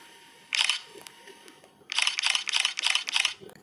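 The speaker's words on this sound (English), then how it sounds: "search for camera click sound or camera shutter sound" Camera shutter sound effect for a freeze-frame snapshot edit in CapCut: one crisp shutter click, then after a pause four more in quick succession, sharp and close.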